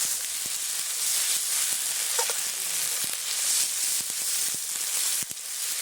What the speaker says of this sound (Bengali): এইভাবে এক এক করে মশলা দিয়ে তেলে ভেজে নিলে কাঁচা মশলার গন্ধটা কিন্তু থাকে না